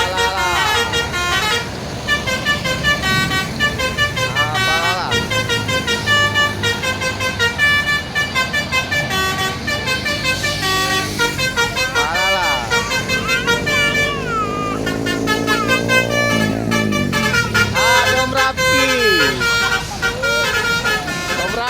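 Bus arriving at a roadside stop in Indonesia, its horn playing loud, continuous melodic musical honks over steady engine rumble and traffic, close and dense throughout.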